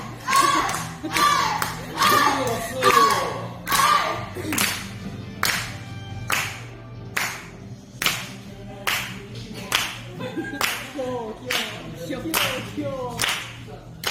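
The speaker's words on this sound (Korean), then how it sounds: "박수 했어, 박수" Bursts of hand clapping, close and fairly loud, repeat in short irregular runs across the whole stretch, with brief gaps between groups and faint voices in the background.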